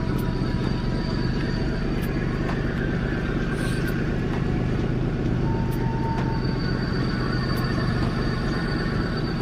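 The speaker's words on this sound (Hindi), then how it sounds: "गाड़ी के इंजन के अंदर कितनी आवाज़ है" A car engine idling, heard from close by as a steady, even low rumble and hum with a faint whine, constant in level and alone without any talking.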